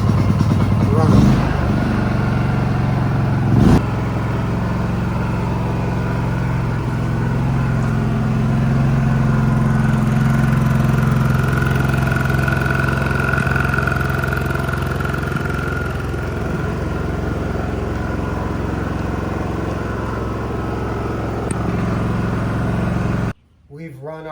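WEN DF400i dual fuel 4000-watt inverter generator starting on choke and running, a steady mid-pitched engine drone held for a long stretch before cutting off abruptly, with a person talking over it.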